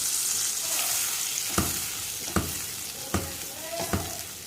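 Tomato juice goes into hot oil in a pan for Egyptian koshari sauce, giving a steady bright sizzle with four soft stirring knocks and no voices.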